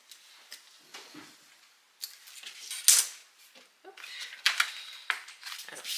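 Cardstock is cut for a scrapbook album structure in a series of small irregular snips and rustles, close and fairly quiet, with a few brighter paper crunches and a moment of quiet between bursts.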